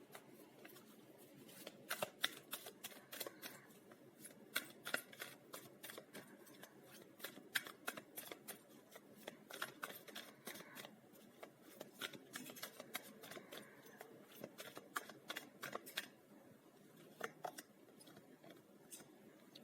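Tarot cards shuffled by hand in a steady run of crisp riffling flutters and soft slaps, close and fairly quiet, with no talking.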